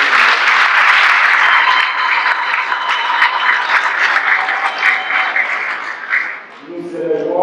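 A church congregation at Sunday Mass applauds in a long, dense, steady round of clapping that fades out near the end, followed by someone speaking.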